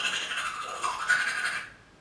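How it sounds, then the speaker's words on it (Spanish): A toothbrush scrubs teeth in a quick, scratchy back-and-forth rhythm, close and fairly loud, then stops abruptly near the end. "Así suena cuando nos lavamos los dientes."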